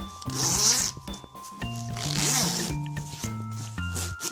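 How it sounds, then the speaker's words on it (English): A snowmobile suit zipper is pulled open in several short ripping strokes, close and fairly loud, with brief pauses between pulls. "Because now we really do have to unzip"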